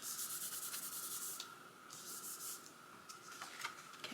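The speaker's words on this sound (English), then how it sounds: "if you catch it while it's wet like this, you can pretty much just rub it off" Wet craft glue is rubbed off a card surface, giving soft, close friction with short scratchy strokes in bursts, faint and without speech.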